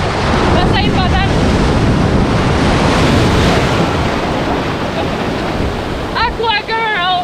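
Large ocean waves at Pelabuhan Ratu beach roar in a loud, continuous surf wash with heavy wind buffeting the microphone, while people's voices come through briefly near the start and again near the end.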